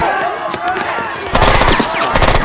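Gunfire crackles through a Wolverine film scene as Yakuza attackers strike, with sharp rapid bursts over rumbling score that grow into a dense, loud volley in the second half.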